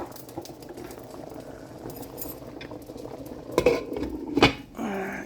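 Water bubbles and simmers steadily in a pot, with a few sharp metal clinks and clatters of cookware near the end.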